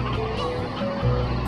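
A hen in the video game Slime Rancher gives honking, clucking game-bird calls over a continuous, dense background of in-game sound, with no one talking.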